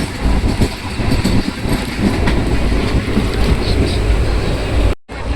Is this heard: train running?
yes